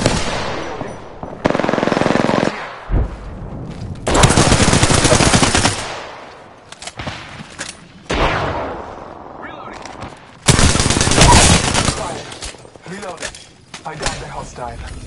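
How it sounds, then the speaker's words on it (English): Rapid automatic gunfire in the video game Apex Legends comes in several long, loud bursts separated by quieter stretches, with scattered single shots and game character voices in between. "Shots fired. And they're hitting me."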